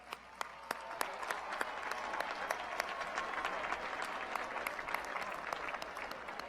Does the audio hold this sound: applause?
yes